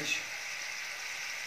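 Kashmiri red chili sizzling in hot oil while cooking dal-stuffed eggplant, a brief, steady close frying hiss with a faint clink at the start.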